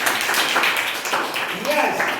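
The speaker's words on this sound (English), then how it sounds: "Let's give him a round of applause." A classroom of students gives a round of applause, a dense burst of clapping mixed with voices talking over it.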